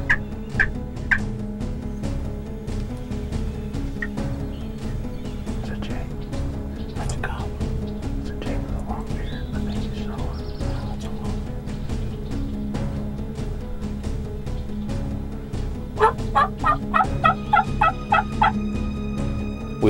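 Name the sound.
wild turkey gobblers gobbling in a field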